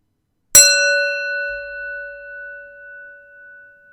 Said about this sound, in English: we're going to hit the sound of the bell